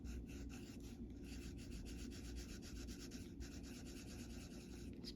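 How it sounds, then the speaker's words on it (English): A Sargent Art watercolor crayon colors lightly over paper, a soft, steady scratchy rubbing in short repeated strokes, close and quiet, with no talking. "I'm just lightly coloring over the flower."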